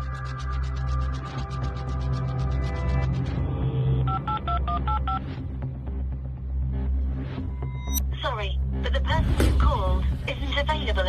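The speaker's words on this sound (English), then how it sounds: "Three calls have gone into the phone." Touch-tone telephone dialing in a crime documentary, a run of steady, evenly spaced beeps followed by more tones and a chirping electronic phone signal, loud and clear over a continuous hum.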